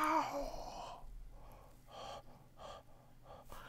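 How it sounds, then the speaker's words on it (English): Heavy panting breath close to the microphone, a strong gasp at the start followed by several softer rhythmic inhales and exhales, quiet and alone. "I'm panting."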